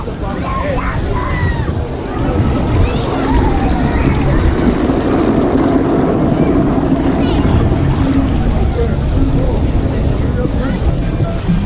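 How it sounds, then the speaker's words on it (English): Water fountains splash and spray all around at Volcano Bay water park, a steady rushing wash of water under wind noise on the microphone, with a person talking over it. "there's fountains everywhere. There's water."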